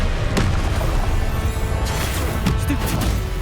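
A Confringo spell blast goes off in Hogwarts Legacy amid ongoing combat, loud booming impacts and crashes layered over a dense, rumbling game soundscape.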